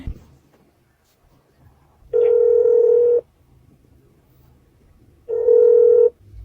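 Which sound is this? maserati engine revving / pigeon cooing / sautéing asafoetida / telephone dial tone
telephone dial tone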